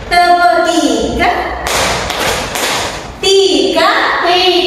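Schoolchildren in a primary classroom slap their hands on desks in a counting clapping game, bursts of dense thumping and clapping between a woman's spoken instructions and children's voices.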